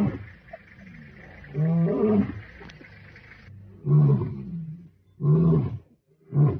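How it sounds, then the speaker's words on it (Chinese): Lions in Kenya's Maasai Mara reserve, a male approaching a resting female, give deep grunting roars in loud, close bursts separated by short pauses. "有一头母狮子在睡觉，这时有一头公狮子在慢慢靠近母狮子"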